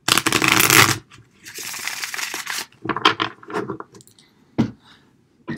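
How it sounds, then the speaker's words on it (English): Tarot cards are shuffled close up in several brisk riffling bursts, separated by short pauses and a few softer taps and slides. "We're gonna shuffle the cards."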